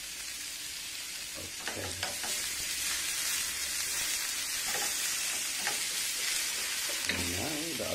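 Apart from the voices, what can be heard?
garlic and onion frying in a pan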